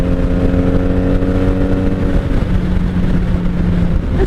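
A 1997 Honda Magna VF750C motorcycle running on a highway, with a loud steady engine drone and wind roar close up, the engine hum holding an even pitch throughout.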